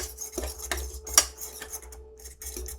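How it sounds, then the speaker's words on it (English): A fork whisking lumpy mac and cheese sauce in a pot, light irregular clinks and scrapes of metal against the pan, fairly quiet and close. "maybe you have to whisk it with your fork"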